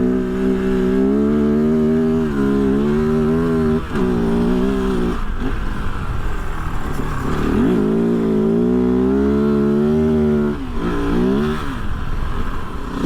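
A 2023 Kove FSE 450R Rally motorcycle ploughs through deep sand in third gear. Its close, loud engine note rises and falls as the throttle opens and eases repeatedly.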